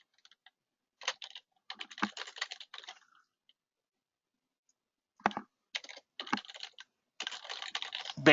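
Bursts of typing on a computer keyboard while renaming an item in software, quick close clicks in two clusters separated by a pause of silence.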